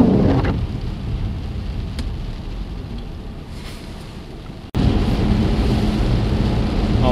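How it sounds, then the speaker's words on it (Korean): Heavy mixed rain and snow falls on a winter day, a dense, steady wash of noise close by with no voices and a brief sharp break partway through. "비가 좀 많이 오는 날이네요"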